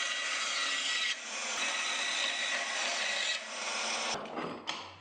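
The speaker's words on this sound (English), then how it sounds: "I rough shaped the walnut on the bandsaw," A bandsaw rough-shapes a piece of walnut, its steady broadband cutting hiss running loud and close for several seconds, briefly easing off partway through and ending in a few short scraping bumps.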